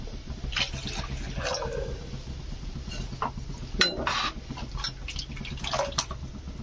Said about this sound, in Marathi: आपण अजून पाणी टाकतो